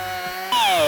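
A loud, brief high-pitched whine from a circular saw cutting a plastic bumper on a 2019 Ford Kuga, its pitch shifting as the blade bites into the material.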